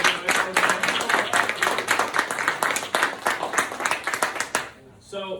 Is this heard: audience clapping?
yes